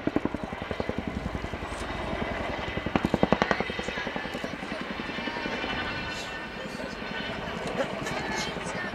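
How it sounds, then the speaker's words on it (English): A Royal Air Force Chinook twin-rotor helicopter in a flying display, its rotor blades thumping in a fast, heavy rhythmic chop that pulses louder and softer as it manoeuvres at a distance, with faint voices at times. "the Chinook used to show off its excessive power in comparison to other helicopters over there"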